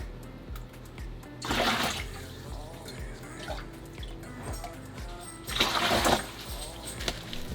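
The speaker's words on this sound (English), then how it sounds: "Let's take out a bit of water until we get all our stuff in there and acclimated." Water is drawn out of a nano reef aquarium during setup, coming as two louder gushing, splashing bursts against a steady low trickle and faint dripping in between, with no talk.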